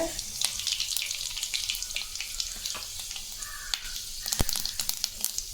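Fenugreek and mustard seeds sizzle and crackle in hot oil, a close steady frying hiss with scattered pops and a sharp clink near the end, no voices.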